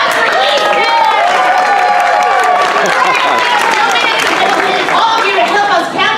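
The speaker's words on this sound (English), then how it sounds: "Everybody big round of applause for Easton." A crowd at Legoland New York in Goshen applauds and cheers for a young boy, with lively clapping mixed with excited voices and chatter throughout.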